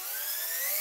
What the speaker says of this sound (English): So I just drill out the center of it using a drill bit.